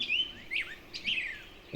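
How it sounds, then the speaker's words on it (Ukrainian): A small bird chirping in winter, several bright, close tweets in quick succession with short pauses between them, heard clearly with no voice over them. "А подивіться, яка гарна пташка прилетіла до нас."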